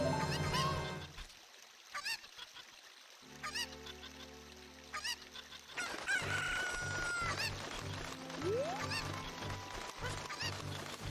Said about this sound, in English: And he's got his chicken.